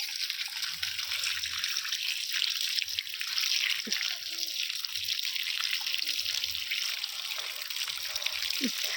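Kabong fruit is rinsed of soil in water, a steady hissing flow of running water with occasional small splashes and drips nearby.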